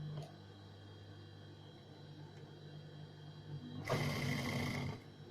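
A sewing machine stitches the folded waistband casing of a salwar, a steady mechanical whir running throughout and swelling louder near the end before easing off.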